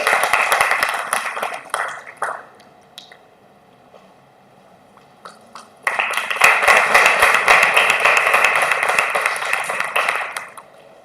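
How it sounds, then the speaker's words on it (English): Audience at a faculty development program on IPR and research ethics bursts into applause in two waves, a short burst that fades, a pause, then a longer, louder sustained round that tails off. "Please put your hand together for his presence here."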